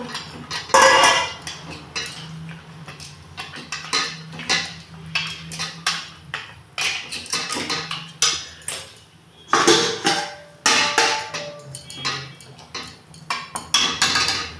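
Shukto with lentil dumplings is stirred in a pot, giving repeated uneven metallic scrapes and clanks of a spoon against the vessel, with quiet gaps between strokes and a faint low hum underneath.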